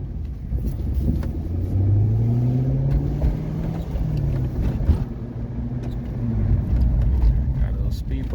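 A C5/C6 Corvette driving on a road, its engine a steady low rumble with gentle rises in revs, heard from inside the car while someone talks over it.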